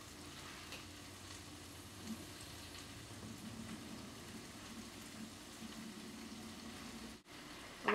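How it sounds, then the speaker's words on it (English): Chard sizzling in a frying pan after a splash of water, a soft steady hiss and crackle heard close by for several seconds with no talking. "You can hear it start to sizzle."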